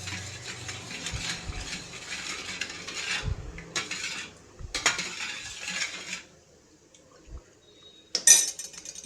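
A spoon stirring curd and salt together in a bowl for radish raita, producing bursts of close scraping and clinking against the bowl with short pauses between strokes, ending in a sharp clink, no talking.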